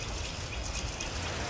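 Rain ambience layered into a music remix, a dense steady hiss of falling rain with soft patter, continuous and even for the short stretch, with no voices.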